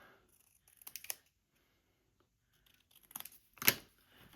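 A few quick snips of scissors cutting paper, close and crisp, in two short bursts separated by a quiet pause.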